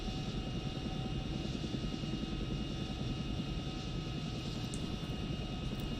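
Continuous rotor and engine roar of a Chinook helicopter in flight in the DCS combat flight simulator, a dense, even drone that holds steady throughout with no voices.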